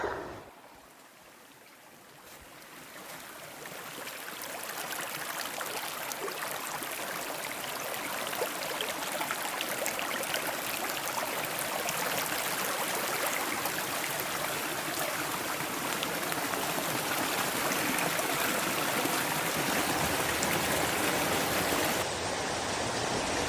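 A small forest waterfall and stream pour with a broad, steady rushing roar that swells in over the first few seconds and then holds constant and close, with no voices.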